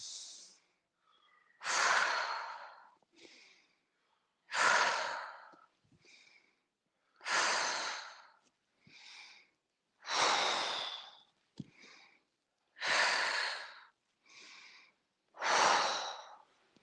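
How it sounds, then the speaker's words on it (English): Slow, deep breaths during tai chi practice: long airy inhales and exhales repeat in a steady, unhurried rhythm, close and clear with quiet gaps between them. "Inhale, exhale."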